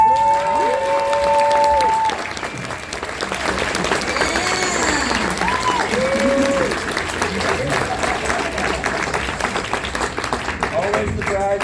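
Sustained audience applause fills a convention panel for the Hellraiser horror film at Days of the Dead Chicago, a steady crowd of clapping with some cheering and voices mixed in throughout.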